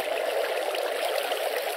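Steady rushing of water moving along a canal in a video game, an even, hissy flow with no breaks or drops, fairly close and alone with no voices.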